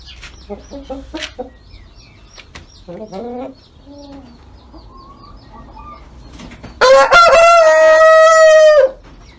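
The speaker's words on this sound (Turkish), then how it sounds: "Burada yedekteki horozlarımız var." A Brahma rooster crows loudly and close by near the end, a single long drawn-out call, after scattered softer clucks and chirps from other Brahma chickens and chicks on a farm.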